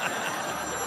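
A telephone rings in a loud continuous electronic trill that fills the whole brief moment at steady volume, heard during a Philippine noontime variety show.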